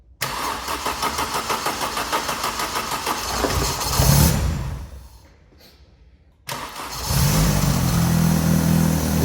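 A Vauxhall Calibra engine runs rough with its airflow meter unplugged, a close, uneven pulsing idle that swells, drops away almost to silence, then abruptly picks up again and settles into a steady, lumpy hum.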